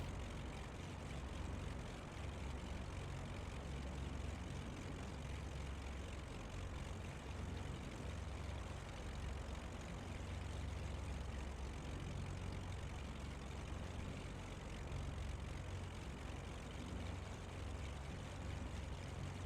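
A twin-engine propeller aircraft taxis in Microsoft Flight Simulator, its engines giving a steady, continuous low droning hum with broadband noise that holds an even loudness throughout, with no talking.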